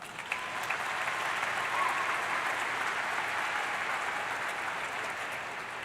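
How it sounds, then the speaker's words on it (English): Sustained applause from a large audience fills an arena during a high school commencement ceremony, a dense, steady wash of clapping that holds at an even level throughout. "Let's give them a round of applause."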